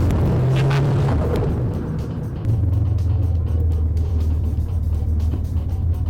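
A powerful car engine rumbles steadily and loud from inside the cabin during a drive, its deep drone shifting pitch partway through as the car accelerates, with no talking.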